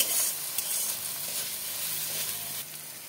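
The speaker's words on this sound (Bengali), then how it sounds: "মশলাটাকে ভালো করে কষাবো" Spice masala with slit green chilies fries in a pan while being stirred, a continuous close sizzle with occasional soft scrapes and no talking.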